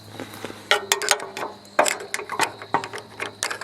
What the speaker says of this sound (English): Okay, screwdriver time.